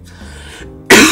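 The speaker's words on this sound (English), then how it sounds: "I have a feeling the coughing thing is coming back." A single sharp, loud cough bursts out at the end, preceded by a quieter breathy throat sound.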